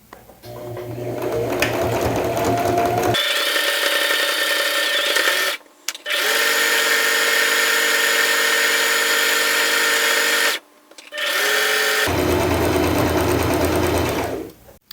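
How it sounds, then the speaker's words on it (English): An overlocker sews a long seam on a robe, its fast motor whirring loud and close in three sustained runs separated by short pauses. "It begins with overlocking."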